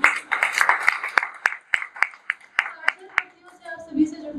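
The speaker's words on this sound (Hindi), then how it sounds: "एक बार भरपूर तालियां आप खुद के लिए बजाएं।" Audience at a stage poetry event clapping, a scattered crowd of hand claps with sharp individual strikes thinning out toward the end, close and moderately loud.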